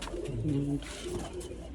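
Pure-breed pigeons coo softly and close by, a couple of low throaty rolling calls over a faint background hiss.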